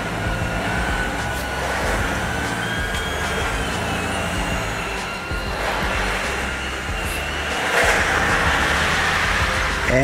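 A vehicle driving up onto an extreme flatbed trailer fitted with a rolling tarp load-covering system, a steady engine and rolling rumble that swells near the end, with no talk.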